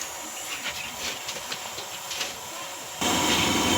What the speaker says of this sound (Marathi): भाजीला फोडणी देणार आहे. आलू मटर,